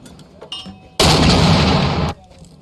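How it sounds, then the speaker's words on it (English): A single loud, sustained burst of explosions or heavy fire lasts about a second, set against quieter background noise during US Marine Corps infantry training at the School of Infantry East. "That's a lot of bombs quickly."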